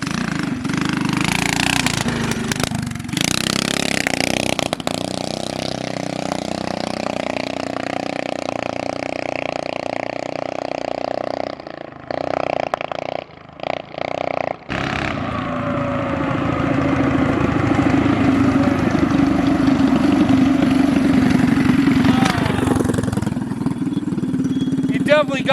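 Small scooter engines race flat out after a choke adjustment, a loud, sustained buzzing drone with a brief dip and stutter midway before revving steadily again, with voices briefly heard over the engines.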